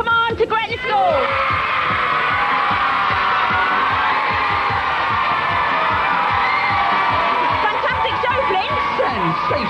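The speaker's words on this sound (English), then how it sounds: "give yourself a winning cheer" Children from Gretna School cheering and whooping for their winning team on a children's TV quiz show, a loud, sustained crowd roar that fills the whole stretch after a brief initial burst.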